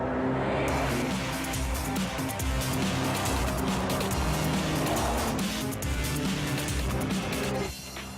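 A Porsche hybrid race car with a water-cooled 4.0-liter six-cylinder boxer engine roars loudly and steadily at high revs, a dense continuous engine howl that drops away near the end.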